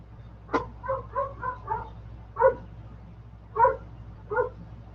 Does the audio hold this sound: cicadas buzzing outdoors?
no